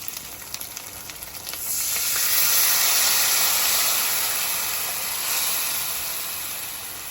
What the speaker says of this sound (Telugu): ఇప్పుడు మనము గుజ్జుగా తీసి పెట్టుకున్నటువంటి చింతపండు రసం